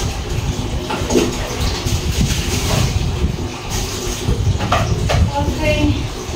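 Glassware is rinsed in water during household general cleaning, giving a steady, close wash of splashing and running water that continues without a break, with faint voice sounds underneath.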